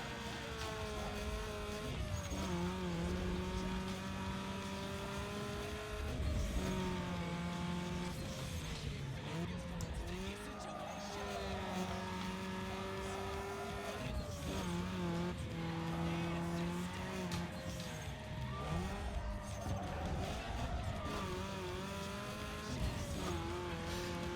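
A V8 engine in the racing video game Need For Speed Underground 2 revs and shifts repeatedly, pitch climbing and dropping through gears, with occasional tire squeal, loud and continuous.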